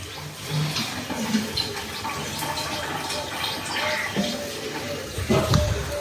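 Water running and splashing as containers fill in a bathroom, a steady rushing pour through the whole stretch with a louder gush near the end.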